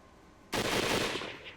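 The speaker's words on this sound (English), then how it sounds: "more gunshots rang from that direction as well." A sudden, dense burst of gunfire breaks a quiet moment in the Hakuoki video game, crackling loudly as a rapid volley before tapering off slightly.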